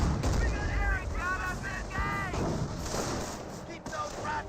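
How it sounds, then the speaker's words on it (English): Mortar and artillery fire in a Company of Heroes battle rumble and thud steadily beneath a caster's continuous voice. "Mortars raining on in."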